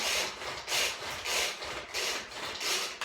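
A hand-pulled cord chopper blitzes garlic cloves and fresh ginger in a kitchen, giving six rhythmic whirring, rasping bursts in a steady back-and-forth pattern, close and fairly loud with no talking.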